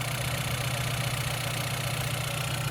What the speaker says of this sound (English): And there's that 2-liter turbocharged 4-cylinder.